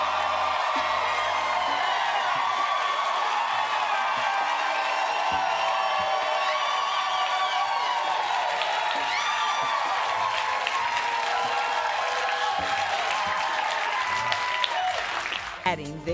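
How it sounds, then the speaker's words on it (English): A television studio audience breaks into a roar of sustained applause with whoops and cheering, loud and continuous for about sixteen seconds before cutting off abruptly at the end. "leading to a roar of applause from the audience"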